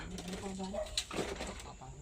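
Soft pigeon cooing in low, throaty murmurs, close by, mixed with voices talking in the background.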